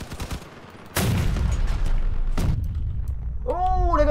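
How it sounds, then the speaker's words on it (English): A cannon booms and gunfire rattles in the vehicle combat video game Crossout, with loud heavy blasts and a sustained rumble of battle. A brief tonal effect sounds near the end. "Oh, they've got a cannon back there."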